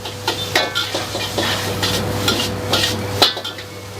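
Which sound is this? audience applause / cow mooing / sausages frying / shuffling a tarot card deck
sausages frying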